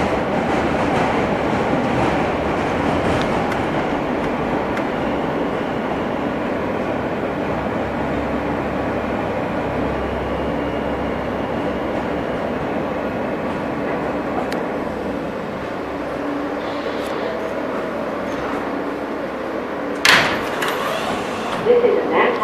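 Interior rumble of an R160 F subway train riding the West End and 4th Avenue lines, a steady continuous roar with faint rail clatter throughout and a brief sharper knock near the end.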